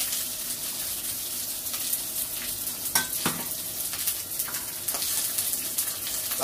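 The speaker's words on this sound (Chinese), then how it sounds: "俾少油落去，一啲都油落去，炒香啲洋葱先" Onions fry in oil in a pan and are tossed and stirred, a continuous bright close sizzle with a few soft scrapes and clinks of a utensil, and no talking.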